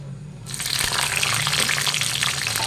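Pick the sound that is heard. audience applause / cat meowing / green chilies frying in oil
green chilies frying in oil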